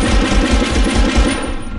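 Rapid machine-gun fire in the 1999 PlayStation Medal of Honor game, a loud, continuous stream of closely spaced shots with a dense, gritty low end, alone with no voices.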